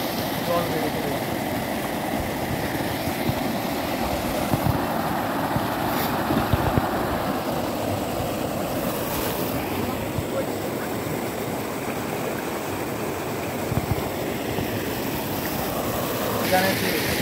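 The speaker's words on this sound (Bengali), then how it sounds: "জল খুব শব্দ জল বেড়ে চলে যাচ্ছে।" Floodwater rushing loudly and continuously as it rises, a broad steady roar of moving water with wind buffeting the microphone throughout.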